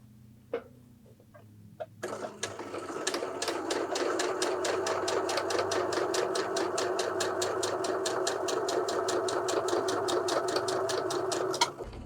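A sewing machine stitches the hem of a knit circle skirt, a faint steady rapid ticking run that starts after a few soft clicks and continues alone for about ten seconds.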